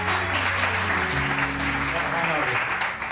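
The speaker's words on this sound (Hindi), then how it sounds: "बहुत सारी तालियां फरहान के लिए भी" Continuous clapping from a studio audience on a Pakistani morning TV show, dense and lively throughout, with a musical tone running underneath.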